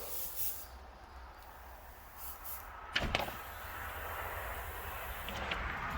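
Paint is sprayed onto paper as a colour test, producing a faint, steady airy hiss with a sharper burst partway through, heard close up with no talk.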